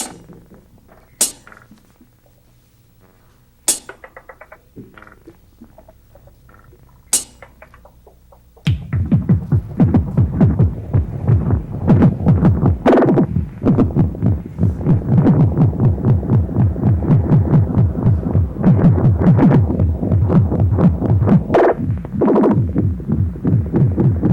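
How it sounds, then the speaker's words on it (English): A Moogerfooger analog delay with its echo time modulated by random voltage: a few sparse clicks with ringing repeats, then a dense, loud, fluttering stream of irregularly warped echoes that continues to the end. "Now if we adjust the delay time using randomness, this is what it sounds like."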